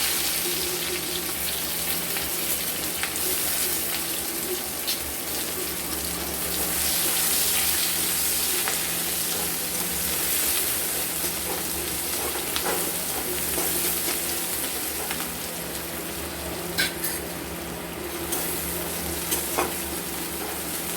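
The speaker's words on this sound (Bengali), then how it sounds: "পেঁয়াজটা আমরা একটু লাল লাল করে ভেজে নিলাম" Chopped onions sizzle in hot oil while being browned for a prawn and paneer dish, a steady close frying hiss with scraping stirs and occasional clinks running throughout, no voices.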